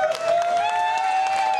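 Soccer fans applauding and cheering as a crowd over a possible Major League Soccer arrival in Austin, a steady wash of clapping and voices with a sustained high horn-like tone running through it, fairly loud and unbroken.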